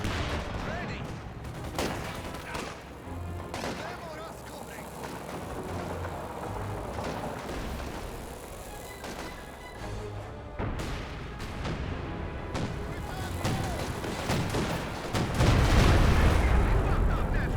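Artillery barrage in a Company of Heroes 2 match, repeated booms and thuds of distant shelling mixed with gunfire, with a voice commentating over it and a heavy rumble building near the end.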